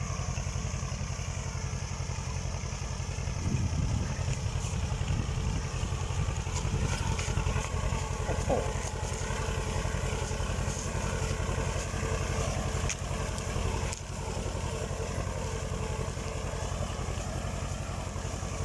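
A small tractor plows soil after rain, its steady, droning engine running continuously at moderate distance, with a low chugging rumble that swells briefly before settling back.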